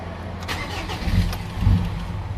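A Mazda BT-50 pickup with a hard-starting, low-power fault and power-train warning lights cranks and catches, a brief close engine start that swells twice within a couple of seconds.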